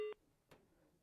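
A telephone line tone cuts off sharply after a call on a news phone-in drops, followed by a single faint click and quiet line noise.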